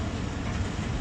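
The 39 Up Jaffar Express pulling out of Chichawatni railway station gives a steady, dense rumble of wheels and carriages at close range.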